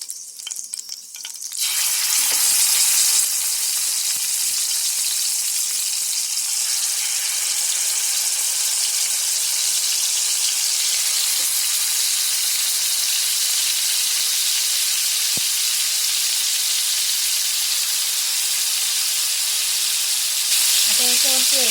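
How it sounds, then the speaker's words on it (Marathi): Chicken leg tikka pieces frying in a little hot oil in a pan, giving a loud, continuous sizzle and hiss that holds steady for the whole stretch, with a few faint clinks and stirs underneath. "आपलं तेल तापलं ना, की कमी तेलामध्येच आपल्याला फ्राय करायचं आहे"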